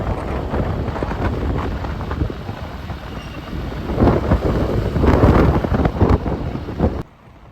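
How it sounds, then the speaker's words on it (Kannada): Strong wind roars steadily against a moving vehicle travelling a road past the Hemavathi reservoir at Gorur Dam near Hassan, then cuts off abruptly near the end. "ತುಂಬಾ ಗಾಳಿ ಇದೆ ಫ್ರೆಂಡ್ಸ್"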